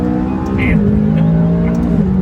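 McLaren 570S accelerating hard out of a corner, a loud steady engine drone with harmonic tones rising and shifting as it pulls, heard from inside the car; a voice talks over it.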